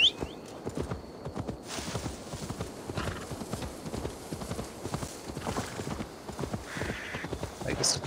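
Horse hooves clip-clop steadily and close throughout in the Assassin's Creed Valhalla video game, a brisk continuous rhythm with a brief whinny near the start, no talk over it.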